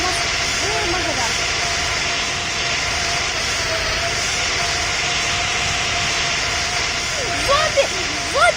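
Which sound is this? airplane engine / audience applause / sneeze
airplane engine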